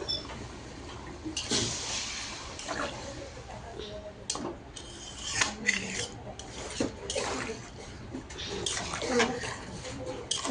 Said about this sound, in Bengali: ঝোলের জন্য জল দিয়ে দেবো